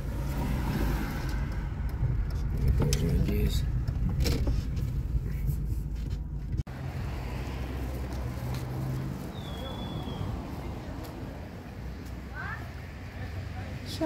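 A car rumbles along a bumpy street full of ruts on Kuibyshev Street, with steady engine and road noise and occasional knocks and rattles. People talk at times over it.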